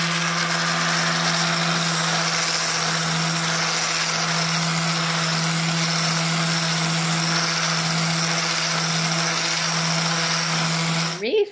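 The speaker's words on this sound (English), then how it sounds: "when I sand this wood filler, it is perfectly smooth." A power sander runs continuously over wood filler on a countertop, giving a steady, loud whirring hum with a constant tonal drone that cuts off abruptly at the end.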